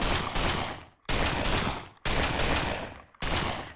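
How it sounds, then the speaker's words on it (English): Gunfire in a blocky Minecraft-like multiplayer deathmatch game on Xbox Live Indie Games, coming as four loud, harsh bursts, each fading out before the next starts abruptly. "So instead of using your pickaxe to hit blocks, you are shooting them"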